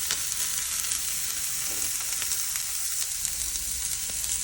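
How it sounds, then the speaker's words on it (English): Meat fries in its own rendered fat over high heat, giving a steady, close crackling sizzle with scattered small pops and no talking. "The more high the heat, the more the fat will come out, which will basically cook the meat for you."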